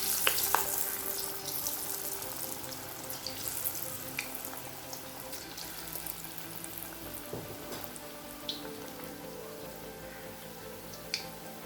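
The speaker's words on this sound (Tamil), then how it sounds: "எண்ணெயில் போட்டு பொரிக்க ஆரம்பிச்சிடலாம். இப்போ எண்ணெய் நல்லா சூடாகிடுச்சுங்க. நம்ம போண்டா போட்டுடலாம்." Bonda fritters frying in hot oil on a stove over a medium flame, a soft continuous sizzle with occasional faint pops and clinks, fairly quiet, without any talk.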